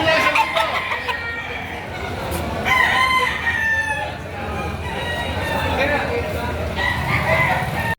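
Roosters crow repeatedly amid clucking fowl at a busy livestock market where chickens are sold, the crows rising over a dense, constant crowd din with people talking throughout.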